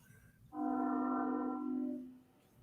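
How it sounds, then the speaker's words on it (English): A train horn sounds in the background, a steady chord of tones that swells in for about a second and a half and then fades, with no talk. "hear a train in the background somewhere."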